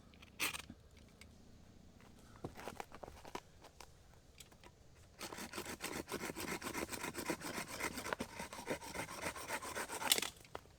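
An Amazon Basics folding saw cutting clamped wood gives a few scattered scrapes at first, then a steady run of close, rough back-and-forth sawing strokes.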